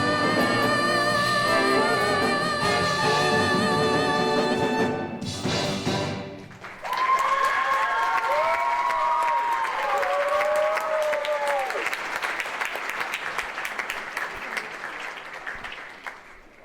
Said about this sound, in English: Can we give one more round of applause for Julia Wildman?